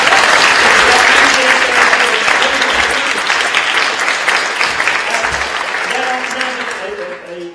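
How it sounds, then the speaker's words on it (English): Sustained audience applause fills a conference hall after an opening address, steady and dense throughout, with a few voices and cheers rising over it and the clapping thinning slightly toward the end. "let's have a round of applause for our"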